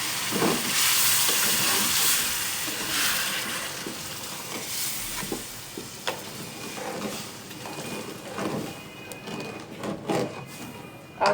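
Milk poured into sugar and roasted semolina in a hot pan sends up a broad, loud sizzling hiss at first. It then settles into softer bubbling crackles with a few scattered clinks.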